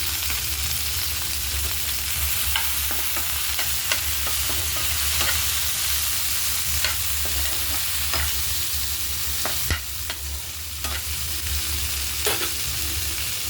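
Tomatoes with cumin and red chillies sizzle steadily in a pan while being cooked down for tomato chutney, a continuous close frying hiss broken by occasional stirring scrapes and clicks, with no voices.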